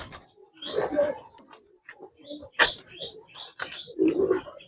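Large Giribaz pigeons in a loft give a run of soft, throaty coos in uneven bursts, close by, with short gaps between calls.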